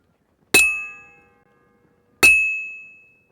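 Two separate metallic bell strikes in the game Kingdom Come: Deliverance 2, each a sharp clang with a ringing tone that decays over about a second, spaced roughly two seconds apart against silence.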